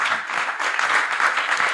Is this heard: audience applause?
yes